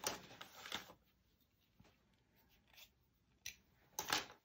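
Scissors trim paper in a planner with quiet, close snips, a few clustered cuts at the start and more near the end, with soft handling rustles in between.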